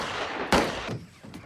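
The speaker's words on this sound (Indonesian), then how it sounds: "Benoit melepaskan tembakan dan terjadi baku tembak di antara mereka" Gunfire erupts in a film shootout between a man and German soldiers: one sharp loud shot, then a fainter second report and a later distant pop over a steady rumbling background.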